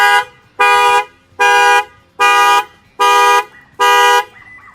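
A 2018 Toyota Camry's factory alarm, set off by an add-on shock sensor when the tire is struck, blares six loud, evenly spaced horn blasts, each about half a second long, with no talking.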